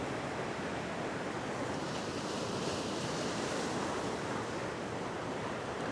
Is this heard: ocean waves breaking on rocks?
yes